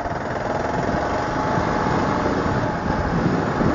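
A 650 cc learner-legal motorcycle idles in neutral, a steady, even engine hum held close up for a few seconds with no other sounds.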